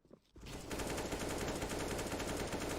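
Dense, continuous gunfire in a Counter-Strike match, including shots fired through a wall, starting abruptly after a brief quiet moment and holding loud and steady to the end.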